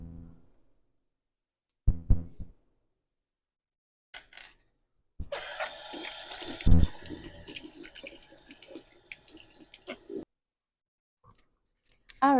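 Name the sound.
washing hands under a running tap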